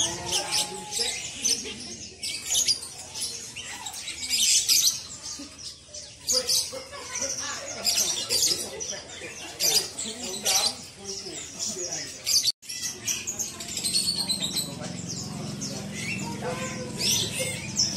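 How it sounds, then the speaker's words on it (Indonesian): Canaries chirp and tweet in a busy bird shop, with dense, overlapping high calls running throughout. Voices and other cage birds can be heard in the background. "Kenari lopernya bos"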